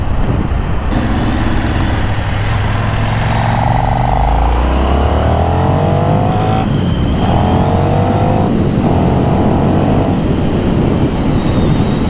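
A 2024 KTM 1390 Super Duke R motorcycle accelerating hard on a road, its loud engine note rising in pitch through several gear changes over constant heavy wind rush, close and dominant throughout.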